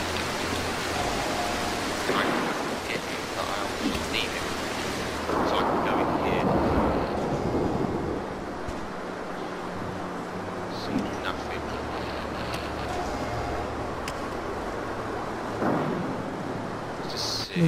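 Rain and thunder in the stealth video game Mark of the Ninja, a steady wash of rainfall with deep rumbling thunder swelling around the middle, loud and continuous under game ambience.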